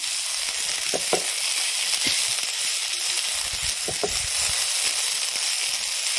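Banana stem frying in a pan with a steady sizzle throughout, broken by a few sharp scrapes and knocks as it is stirred.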